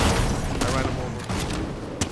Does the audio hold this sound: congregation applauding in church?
no